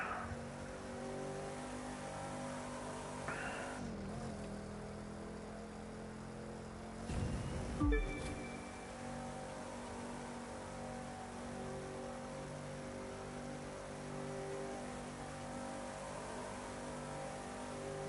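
Steady engine drone of a car being driven in a community race in a racing video game, with a brief louder burst of revving near the middle, sustained throughout with no talking.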